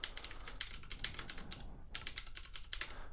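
Rapid keystrokes on a computer keyboard while code is typed, arriving in two quick bursts separated by a short pause, close and clear with no talking.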